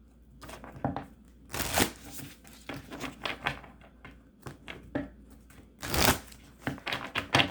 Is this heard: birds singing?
no